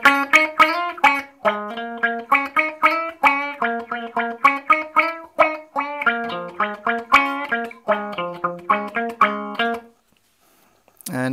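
Electric guitar through a Mu-tron envelope filter with preamp distortion, a run of plucked notes each opening with a vocal, wah-like sweep, loud and close, ending in a short pause before another note starts.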